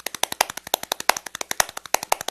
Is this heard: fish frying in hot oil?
no